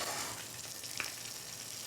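A steady hiss of balsamic vinegar sizzling in a hot pan with chicory, close and continuous, with a faint clink partway through.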